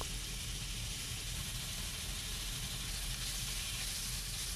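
Pork belly fat dry-fries in a wok, giving off a steady, soft hiss of sizzling that stays even and continuous throughout.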